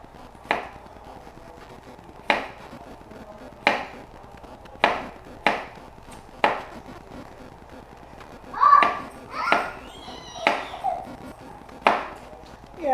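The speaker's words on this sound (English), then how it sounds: "I prefer a very rough chop of my onions." A knife roughly chops quartered onions for enchiladas, giving about eight sharp, close knocks in a steady, unhurried rhythm, followed by a few softer taps and faint clatter.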